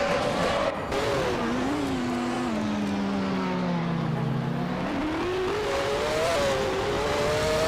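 A Benetton B196 Formula One car in a racing video game, its engine droning steadily throughout with pitch sweeping down and back up through a corner, sustained and close with no talk.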